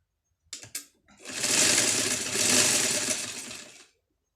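A sewing machine stitches the side fitting seam of an A-line frock kurti, starting after a few short clicks with a steady, close, continuous whirring run lasting several seconds before stopping.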